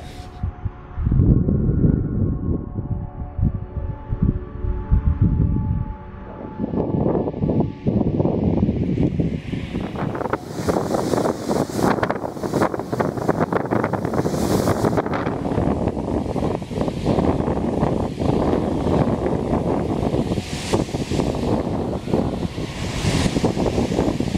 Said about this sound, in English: As far as waves kicking up, boy, they're kicking against this break wall.